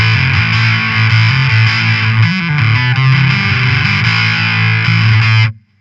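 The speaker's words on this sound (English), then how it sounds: "All the way to the left is a light distortion." An electric guitar plays through a Rise & Shine fuzz octave tremolo pedal set to light distortion, a loud sustained gritty tone with a few chord changes before cutting off abruptly.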